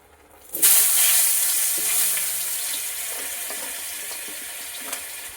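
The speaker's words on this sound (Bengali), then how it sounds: "এবার এই তেলেতেই আলুটা ভেজে নেব।" Potatoes dropped into hot oil in a pan burst into a loud, sudden sizzle, which then keeps up as a steady close hiss and fades slightly, with faint crackles and no speech.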